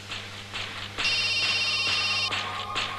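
A telephone rings with a bright electronic trilling tone, one long ring clearly audible over a low background hum.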